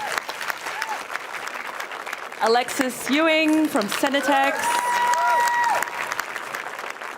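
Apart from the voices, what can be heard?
audience applause for panelists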